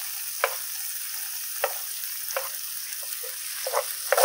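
Shallots and garlic fry in oil tilted to one side of a pan, giving a steady, moderate sizzle with occasional small pops and stirring clinks.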